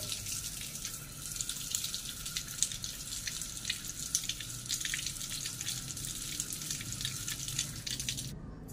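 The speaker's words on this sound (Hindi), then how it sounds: "तो साथ में धो लेते हैं हम हाथ" Hands are washed under a running tap in a village home, a steady close splash and hiss of flowing water that runs unbroken and then cuts off abruptly at the end.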